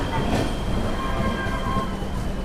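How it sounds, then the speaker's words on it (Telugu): A Secunderabad–Shalimar weekly AC express pulls into Vizianagaram station as a continuous loud rumble with a faint high brake squeal running through it, close by and steady throughout. "సో మన ట్రైన్ వచ్చేసి విజయనగరంకి అయితే వచ్చింది."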